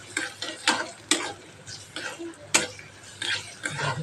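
Onions sizzle in hot oil in a pan while a utensil stirs them, sending sharp scrapes and metallic clinks over a steady low crackle at close range.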